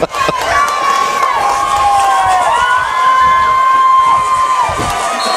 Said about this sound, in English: The homecoming crowd getting into it here